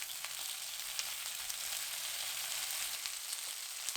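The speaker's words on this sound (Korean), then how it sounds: "예열한 팬에 식용유 3큰술 넣습니다. 코다리 넣고 중불로 구워주세요." Dried pollock (kodari) sizzles in three spoonfuls of cooking oil in a preheated pan over medium heat, a dense, steady, close crackle with faint pops and no talking.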